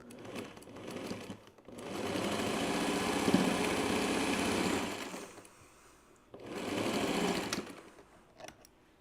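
A home sewing machine runs in two loud, steady bursts, the first about three seconds long and the second shorter, with a brief quiet pause between them and soft clicks at the start and end.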